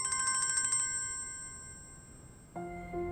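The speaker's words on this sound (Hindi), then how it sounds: "किसका फोन है?" A phone ringtone in a TV drama scene plays a bright, pulsing electronic melody that fades into a sustained tone, then a second, lower chime begins near the end.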